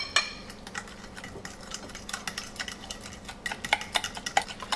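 Banana bread batter with two large mashed bananas being stirred by hand in a bowl, a run of light scraping clicks and taps that grows busier toward the end, close and fairly quiet with no talking.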